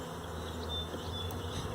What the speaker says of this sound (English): Wow, look at all those bees.